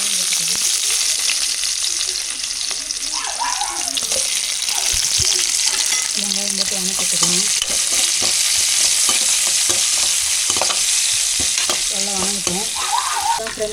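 Curry leaves hit hot oil with spluttered mustard seeds for a mutton curry, giving a loud, continuous sizzle and crackle with occasional stirring scrapes throughout.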